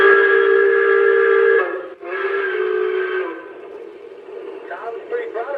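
A model train's whistle sounds a loud sustained blast, breaks off briefly, sounds a second shorter blast, then trails into quieter wavering tones.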